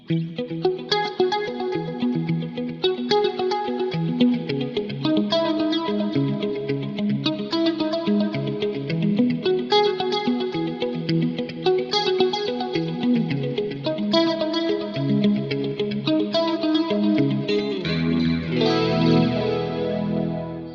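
An electric guitar through a Valeton GP-5 with vibrato and reverb effects, playing chords and melodic lines, with wavering vibrato and a spacious reverb tail, ending on a low ringing note.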